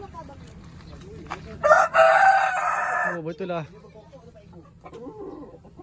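A rooster crows loudly nearby, followed by some clucking, while a person speaks briefly in the background.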